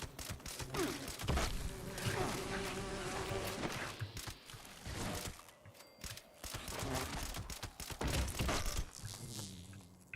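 Bees spawned by a honey beast in the video game Fallout 76, a loud, close, continuous insect buzz swelling and fading with overlapping game effects, no speech.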